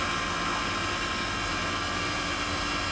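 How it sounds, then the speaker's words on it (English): Side-yard air conditioner air handler of a single package unit at a residence running steadily, a constant broadband whooshing hum with no talk, loud and unchanging throughout. "side yard air handler."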